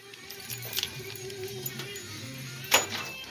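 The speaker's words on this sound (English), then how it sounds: "So I'm gonna get my keys" A bunch of keys jangles close by in a small space. There are several light metallic clinks and one sharp, louder rattle near the end.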